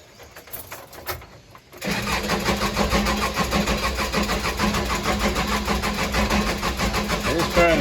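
A Case 580 Super L backhoe engine cranks and tries to start, sounding unhealthy: a quiet, uneven start, then from about two seconds a loud, steady mechanical churning that keeps going to the end.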